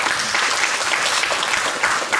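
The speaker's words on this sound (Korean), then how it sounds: "박수로 맞아주십시오" An audience at a Seoul National University Buddhist student association academic conference claps to welcome a presenter, with dense, loud applause filling the room throughout.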